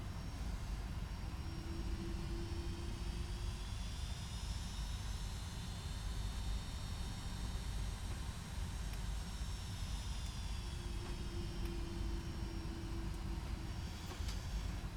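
Steady whine and roar of Boeing 757-200 jet engines while taxiing in X-Plane 11, constant and moderately loud with high tonal sweeps rising and falling, no talking.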